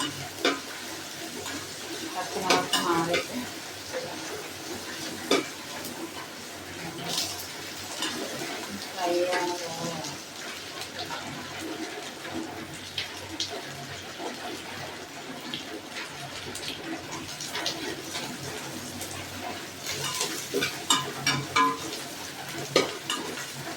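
Green chillies and curry leaves fry in a pan for Palakkad-style chicken curry, a soft continuous sizzle broken by scraping stirs and occasional louder crackles, close and moderately quiet.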